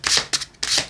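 Tarot cards being shuffled and drawn during a reading, with two bursts of crisp riffling paper flicks, close and clear, with no voices.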